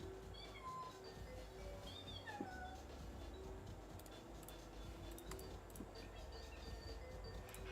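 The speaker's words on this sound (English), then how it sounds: "You stirring up the cat?" A house cat gives a few faint, rising and falling meows over a steady background hum and low rumble, with light ticking clicks scattered through.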